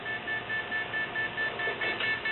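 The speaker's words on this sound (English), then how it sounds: "And we got an alarm for RDX." An explosives detector alarm beeps in a fast, steady pulse, signaling RDX, each short tone repeating evenly over a faint background hiss.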